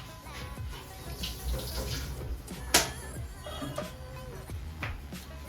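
Water runs from a tap at a kitchen sink while something is rinsed under it, a steady splashing stream with a few clinks and knocks of items being handled.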